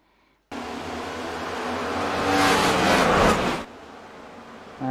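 Next Gen race cars on the oval at Auto Club in the iRacing simulator: a dense wall of engine roar that starts abruptly, swells as the cars pass, then drops away suddenly, with no talk.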